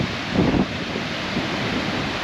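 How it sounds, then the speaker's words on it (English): Lake Superior waves washing onto a beach, a broad steady roar of surf with one fuller surge early on, mixed with wind rumble on the microphone; no voices. "these are Lake Superior waves"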